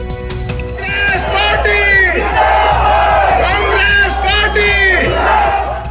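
Large crowd at a Congress election campaign rally on an open ground in Shimla, cheering and shouting in loud, rising waves of massed voices with whoops and chanting.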